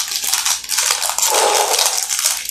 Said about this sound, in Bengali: চলো এটাকে আনপ্যাক করা যাক